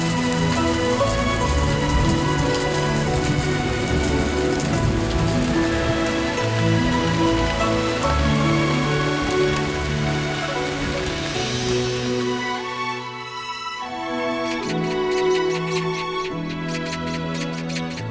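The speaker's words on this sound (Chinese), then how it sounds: "咱们出去看看下雨了没有" Steady rain falls on surfaces around a palace courtyard, a continuous dense patter that fills the scene, briefly dipping before resuming.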